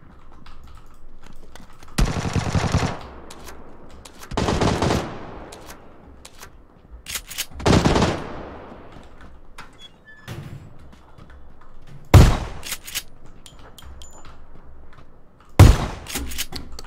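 Bursts of automatic gunfire from a PUBG-style shooter video game: several long, loud volleys and a few sharp single cracks spread over the clip, with quiet gaps between them and no voices.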